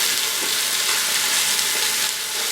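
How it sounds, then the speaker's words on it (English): Pot roast meat searing in an Instant Pot, a continuous close, loud sizzle that stays steady and even throughout with no talking. "So I'm not even going to bother to sear the meat on every single side"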